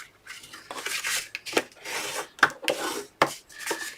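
A tool rubbing firmly along score lines on paper for a large folio, producing repeated close scraping strokes in an uneven back-and-forth rhythm, with no voices.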